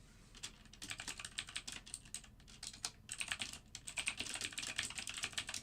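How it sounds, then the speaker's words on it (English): Fast, steady typing on a computer keyboard in a home trading setup, a dense run of light clicky keystrokes close to the microphone with brief pauses, no voices. "That's why I'm typing."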